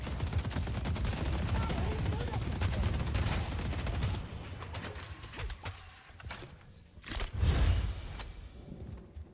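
Automated turrets firing in the mecha video game Mecha Break: rapid sustained bursts of gunfire with a louder barrage near the end, set in a busy battle mix.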